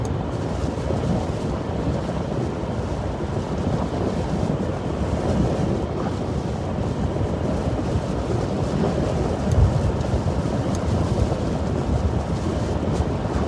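Strong gusting wind roars steadily during a December derecho thunderstorm in Iowa, a dense, constant rumble with no distinct thunderclaps and no voices.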